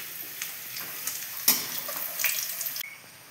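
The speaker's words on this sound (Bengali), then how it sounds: "এবার তেলের মধ্যে দুটো তেজপাতা, দুটো শুকনো লঙ্কা, একটু জিরে ফোড়ন দিয়ে দিলাম" Bay leaves, dried chillies and cumin seeds crackle in hot oil, giving a faint, hissing sizzle with scattered sharp pops, one louder spatter, then a quick drop to a quieter hiss.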